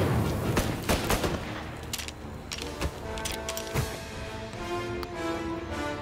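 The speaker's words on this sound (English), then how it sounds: "Gunshots heard." Gunfire in the video game Mafia: Definitive Edition, dense rapid shots and bursts cracking over steady background noise throughout, loud and continuous.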